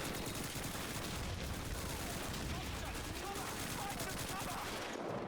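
Dense volleys of gunfire in the World War II shooter Call of Duty 2 near a town square, continuous crackling rifle and machine gun shots at a steady moderate level, cutting off abruptly at the end.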